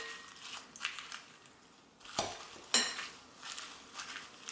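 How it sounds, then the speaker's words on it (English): A salmon and avocado salad with chia seeds stirred in a bowl, soft scraping and tossing with a few sharp utensil clinks against the dish, close by. "And then I will mix this salad mixture."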